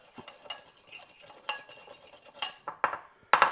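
A utensil stirs a dry spice mix of garlic, cayenne pepper and paprika in a bowl for a spicy shrimp coating, giving irregular scraping strokes and sharper clinks that grow louder toward the end.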